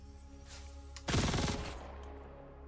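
A Kastak Arms Custodian SMG fires a short burst in Star Citizen, a rapid sharp rattle of shots that rings out briefly and fades over a low hum.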